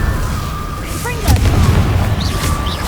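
Confringo explosive spell cast in Hogwarts Legacy, a sudden booming burst landing mid-clip over a dense, rumbling game soundscape with a few high whooshing magical tones trailing after.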